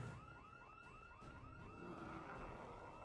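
In Project Zomboid, a car alarm wails in a fast, repeating upward-sweeping siren pattern, about three cycles per second, with a steady high tone above it and low rumble beneath, moderately loud and continuous.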